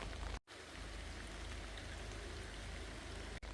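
Steady rain falls over woodland ponds, a continuous close hiss of drops on water and leaves that is broken only by a brief dropout, with no voices.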